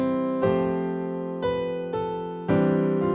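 Piano chords struck four times in slow succession, each ringing out evenly with no single top note standing out, sounding blended and muddy, close and alone with no talk.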